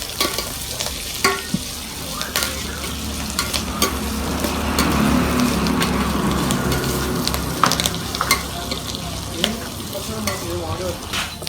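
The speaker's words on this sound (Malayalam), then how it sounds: "ഇതിലേക്ക് നമ്മൾ സവാള അരിഞ്ഞു വെച്ചേക്കുന്നത് ഇടയാണ്. കുറച്ച് നന്നായിട്ട് ഇളക്കി കൊടുക്കണം." Chopped onions fry in an oiled pan while a spoon stirs them, a close sizzle that swells in the middle, punctuated by scraping and clinking strokes of the utensil against the metal.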